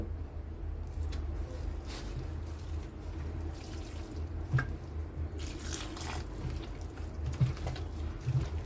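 Water poured slowly into a fresh rice flour batter for egg pitha, a steady soft trickle and splash running throughout with a few faint clinks, close by.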